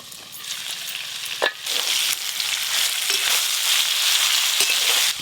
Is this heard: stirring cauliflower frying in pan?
yes